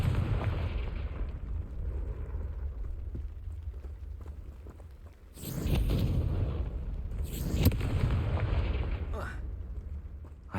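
A Confringo fire spell goes off in the Hogwarts Legacy video game, two loud booming bursts a couple of seconds apart over a low rumbling game ambience, with a sharp crackling tail after each.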